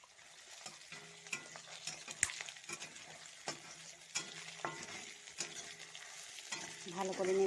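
Ginger paste and chopped garlic fry in a pan for a chicken dish while being stirred, soft sizzling broken by repeated scraping strokes and utensil taps against the pan, growing busier toward the end, with no speech.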